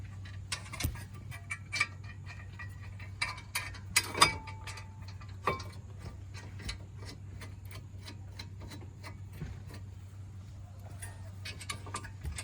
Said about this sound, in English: Get your 18mm socket and the bolts.